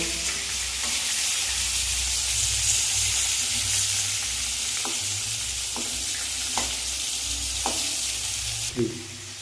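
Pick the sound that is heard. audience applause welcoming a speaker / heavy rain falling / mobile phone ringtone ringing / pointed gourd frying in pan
pointed gourd frying in pan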